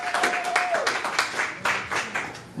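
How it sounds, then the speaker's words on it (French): A church congregation applauding during a Sunday service, scattered clapping close by with a steady rhythm and voices underneath, moderately loud. "Acclamons bien aimé."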